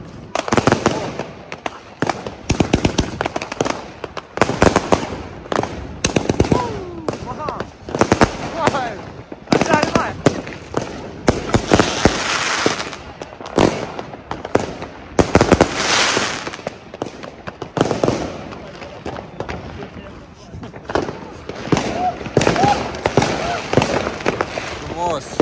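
A New Year fireworks display in Germany, with rapid crackling bursts and loud booms repeating throughout, some near and some farther off, under occasional voices.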